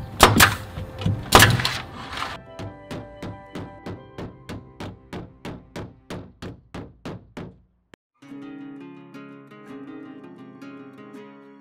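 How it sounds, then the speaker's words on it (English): Drawer runner hardware being fitted back into a drawer: two heavy thunks, then a long, evenly spaced series of ratcheting clicks that slows and stops, followed by a soft musical tone. "First up, I'm gonna add the drawer runner back in."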